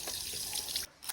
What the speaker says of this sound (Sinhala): වතුර පොඩ්ඩක් දාන්න